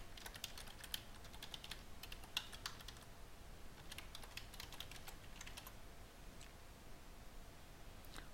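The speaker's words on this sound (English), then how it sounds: "going to type my password here" Password being typed on a computer keyboard while joining a Windows Server 2019 domain: a steady run of quick, light key clicks with a few louder taps, close and fairly quiet, no voices.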